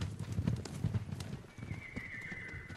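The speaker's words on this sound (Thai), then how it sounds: "เฮ้ยมีม้าวิ่งมา" A horse gallops in the video game Ghost of Tsushima, steady clip-clop hoofbeats with a whinny, moderately loud over outdoor game ambience.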